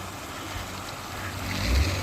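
A mountain waterfall and its flowing stream in hillside forest give a steady, close broadband rush of water that holds constant for about two seconds, swelling slightly toward the end, with no voices.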